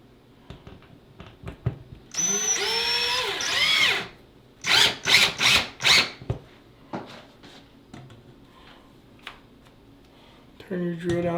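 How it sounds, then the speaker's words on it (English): A power drill drives screws into a rustic wooden coat rack in short bursts, whining up and down several times at close range, with brief pauses and light handling noises between runs. "Turn your drill down to the lowest"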